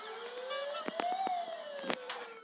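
An ambulance siren in the video game Dude Theft Wars rises and falls in a slow wail, fairly loud, with sharp game impacts and clicks cutting across it.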